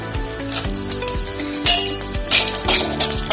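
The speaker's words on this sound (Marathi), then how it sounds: "आता ह्यामध्ये मी बदाम आणि मनुके टाकते," Almonds and raisins frying in ghee for semolina-vermicelli kheer, a close, loud crackling sizzle with rhythmic stirring scrapes and bursts of spattering, set against a faint repeating musical tone in the background.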